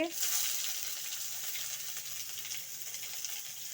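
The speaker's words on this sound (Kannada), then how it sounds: "ಎಲ್ಲ ಹಾಕಿ ಒಂದ್ಸಲ ಫ್ರೈ ಮಾಡಿ ಈ ಥರ ಈರುಳ್ಳಿ ಸ್ವಲ್ಪ ಕಲರ್ ಚೇಂಜ್ ಆಗಬೇಕು ಸ್ವಲ್ಪ ಎಣ್ಣೆಯಲ್ಲೇ ಫ್ರೈ ಮಾಡ್ಕೊಳ್ಳಿ" Onion, curry leaves, ginger and asafoetida fry in a little oil for husli, giving a soft, steady sizzle with faint stirring, close but quiet, and no talking over it.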